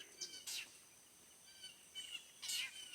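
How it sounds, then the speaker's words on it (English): Birds sing outdoors on family land in the morning, several short high chirps and trills scattered over a quiet, faint background. "You hear the birds?"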